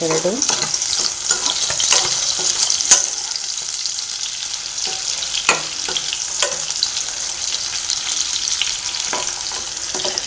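About twenty cashew nuts fry in oil in a pan, a continuous hissing sizzle with occasional clinks and scrapes of stirring, close and steady with no talk.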